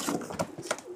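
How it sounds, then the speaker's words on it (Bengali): A female Tiger Budapest pigeon gives a short, soft coo at close range, with a couple of quick throaty pulses set against a faint background. "এটা একটা মাদি কবুতর"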